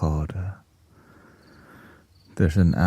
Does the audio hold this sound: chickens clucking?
no